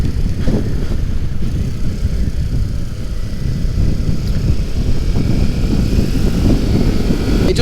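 A 2018 Kawasaki Ninja 400 motorcycle being ridden, a loud steady low engine drone mixed with heavy wind rush, continuous and close throughout.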